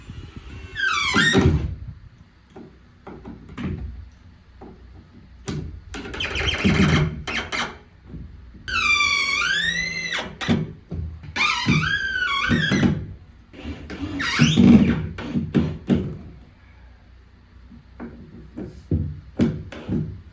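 A wooden door is worked into place in a small ice shack, with repeated wooden squeaks, creaks and dull thunks spread over about twenty seconds, some sharp high squeals in between.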